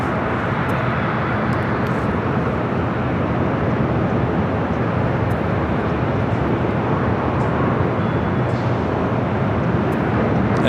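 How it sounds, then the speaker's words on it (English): Delta Airlines Airbus A321neo jet airplane at LAX airport, a loud steady broadband engine roar holding evenly throughout, with no talking. "A Delta flight heading to Seattle, Delta Airlines Flight 1045, A321neo."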